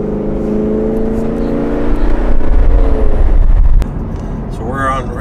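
A custom Chevy truck with paddle shifters and 455 horsepower roars close and loud as it accelerates, the engine note climbing and then dropping as it downshifts, with tire and road rumble beneath and voices chatting over it.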